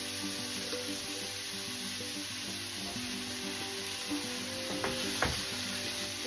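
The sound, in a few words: flour stirred into hot pan with sausage meat for gravy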